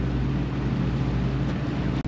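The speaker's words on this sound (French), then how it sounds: "C'est pas les moteurs, c'est les jet skis qui sont là-bas." Jet skis run out on the water nearby, heard as a steady low engine drone with a constant hum, mixed with wind noise on the microphone and no talk.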